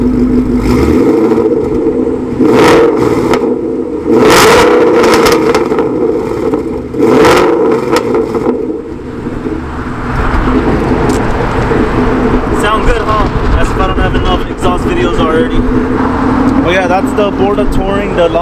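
A 2011-2014 Ford Mustang with BBK long tube headers, an off-road X-pipe and Borla Touring exhaust rumbles at idle and is revved sharply three times. The rising engine roar carries on under continuous steady sound.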